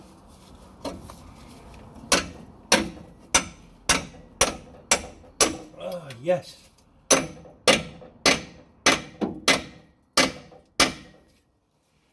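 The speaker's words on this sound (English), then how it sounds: "I'll hammer it in and hope that it fits" A hammer drives a pipe into place on a Ford P100 pickup project, with about fifteen sharp metallic blows in an uneven rhythm, loud and close; a brief voice is heard partway through.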